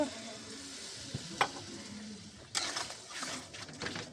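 Melted tomato and whipped yogurt are sautéed in a pan, giving a soft, quiet sizzle with a couple of sharp utensil clinks and scraping stirs.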